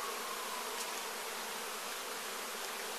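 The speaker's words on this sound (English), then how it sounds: "There are so many bees." Dense swarm of honeybees buzzing steadily around an open beehive while a new super is added, a continuous loud hum filling the space.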